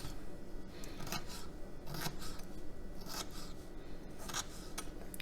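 Knife slicing a turnip into strips on a cutting board: repeated crisp cutting strokes with scraping, in an irregular rhythm, close and fairly loud with steady background noise and no talking.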